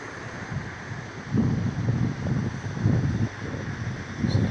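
Surf washing onto a beach at high tide at sunset, near Groot Brak and Glentana toward George, rolling in as steady low rumbling swells with repeated surges under constant wind noise, no voices.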